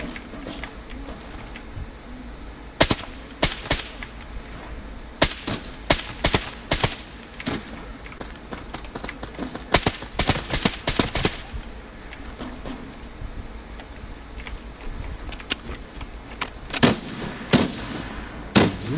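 Sharp bursts of gunfire in Arena Breakout: Infinite crackle in irregular volleys, some rapid and clustered, others isolated shots, with a low background hum between them.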